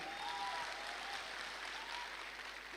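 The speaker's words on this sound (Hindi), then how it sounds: "उनका सबसे बड़ा जोरदार तालियों के साथ स्वागत कर।" An audience at a speech event gives quiet, steady applause that runs the whole stretch, with faint voices mixed in.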